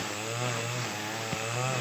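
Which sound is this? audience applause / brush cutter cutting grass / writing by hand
brush cutter cutting grass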